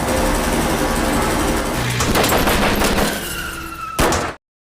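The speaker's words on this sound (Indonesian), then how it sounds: "Mereka mulai meneror stasiun kereta api Mumbai dan menembaki semua orang yang ada di sana." Gunfire rings out in a film scene of an attack at a Mumbai train station, with dense, loud bursts of rapid shots that thin out near the end before a final sharp crack.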